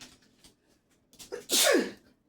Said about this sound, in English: Oh, I'm steady sneezing.